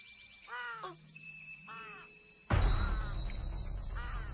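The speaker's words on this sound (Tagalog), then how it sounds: "Ang uwak." A crow caws outdoors in two or three harsh, separated calls, mid-distance, with thin high tones in the background before a sudden broadband wash of ambient noise takes over.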